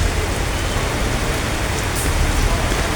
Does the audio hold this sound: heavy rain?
yes